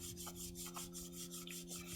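A knife blade rubbed back and forth in steady strokes on a sharpening surface during bushcraft knife sharpening, a regular raspy scraping rhythm of about four strokes a second over a constant low hum, with no talking.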